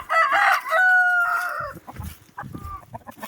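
A rooster lets out one loud, close, drawn-out crow in a muddy chicken run after days of rain, then hens cluck softly and briefly in the background.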